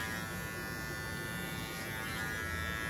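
An electric hair clipper buzzes steadily and quietly through a classic haircut, tilted slightly upward against the hair, a continuous thin motor whine with no pauses or talk.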